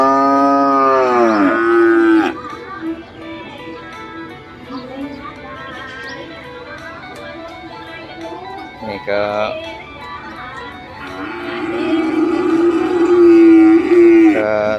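Cattle low in long, harmonic calls at a Thai livestock market; one clear moo opens the scene and another swells near the end over a steady crowd murmur and background voices.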